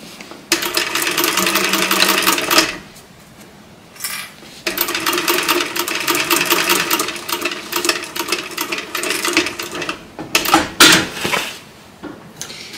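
A sewing machine stitches in several bursts of steady rapid whirring, close and fairly loud, separated by short pauses and a few handling clicks and clatters.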